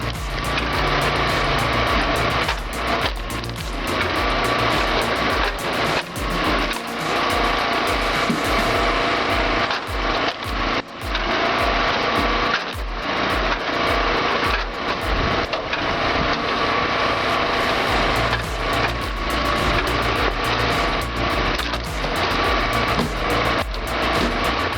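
A powerful log splitter grinds and cracks through redwood rounds, with a continuous loud mechanical drone and repeated woody splitting bursts that last throughout.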